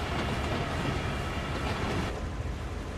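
Another train braking outside in Train Sim World 2, set around a Bakerloo 1938 Stock run, makes a continuous heavy rolling rumble with a faint wheel clatter that eases slightly near the end.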